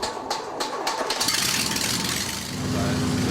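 A small propeller-driven airplane engine cranks, catches and settles into a steady, loud running drone, with short clicks before the start and the engine sound near and continuous afterward.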